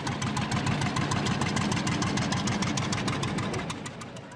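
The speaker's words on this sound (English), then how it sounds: "you get all them pop-up tractors in the back and it's got a nice little beat to it" An antique pop-up tractor engine idles with a steady, rhythmic thumping beat, loud and close, each firing pulse evenly spaced; it fades slightly toward the end.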